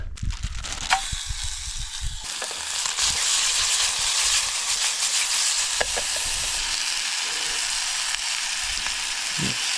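Fish frying in a pan over a campfire by a lake on the Olympic Peninsula, Washington, a constant loud hiss and sizzle with scattered pops and crackles, close and without talk.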